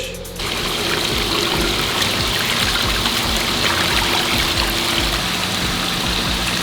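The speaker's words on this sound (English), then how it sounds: "So now all the water has to go through that. And that's it. Siphons through, goes through, and comes out clean." Water siphons through a filter in a backyard pool pond, making a continuous close gushing trickle that starts abruptly and then runs on steadily.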